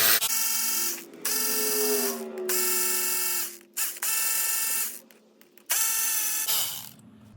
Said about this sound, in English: we're gonna start removing all of these bolts that are holding down our intake